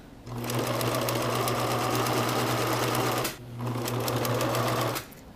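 A sewing machine stitches fabric for a cloth pad in two loud, steady runs of rapid mechanical whirring, close by, with a short stop between them and no one speaking.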